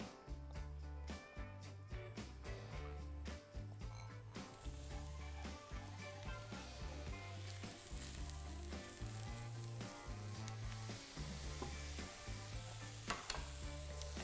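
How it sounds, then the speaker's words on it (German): Sliced shiitake mushrooms fry in a pan with a faint, steady sizzle running beneath background music throughout. "Shiitake-Pilze schon mal in Scheiben geschnitten und die brate ich jetzt noch an"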